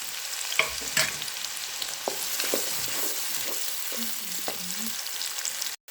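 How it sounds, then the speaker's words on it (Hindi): Onions frying in hot ghee in a kadai, a steady broadband sizzle running throughout with occasional stirring scrapes and clinks, close and fairly loud with no talking. "अब हम इसमें डाल देंगे प्याज और प्याज को कर लेंगे ब्राउन"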